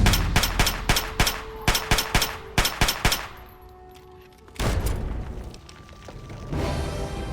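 Gunfire in Fallout 3: loud rhythmic bursts of rapid shots in two groups, followed by a quieter pause and then a renewed rumble of firing and impacts.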